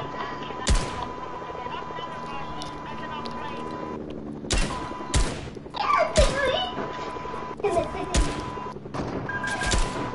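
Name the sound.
sniper gunfire in Fortnite video game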